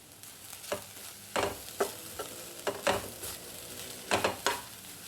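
Grated coconut and cleaned shallots frying in a pan on the stove for prawn theeyal, a soft sizzle broken by repeated scraping and tapping strokes of a spoon against the pan at an uneven pace.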